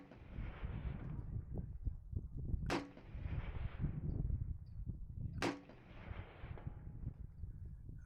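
Two sharp AK rifle shots crack out a few seconds apart at an outdoor long-range shooting session, each a brief loud report over a steady rumble of wind, with no talking.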